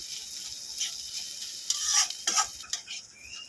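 Rohu fish and potato being fried and stirred in a pan, with a soft continuous sizzle and a spatula scraping and clinking against the pan in close, irregular strokes.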